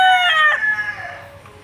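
A white Sambuanga native gamefowl rooster gives one loud, close crow that rises, holds, then trails off, with no other sound over it.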